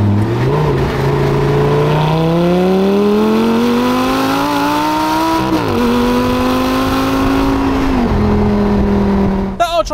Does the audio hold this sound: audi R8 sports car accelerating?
yes